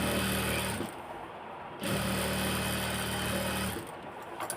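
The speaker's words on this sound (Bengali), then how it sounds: "তারপরে এখানে আমি সেলাই করতেছি, দেখুন কিভাবে আমি তৈরি করি।" A sewing machine stitches a sleeve for a kameez or blouse in two sustained runs of steady mechanical whirring, separated by a short pause, close and moderately loud.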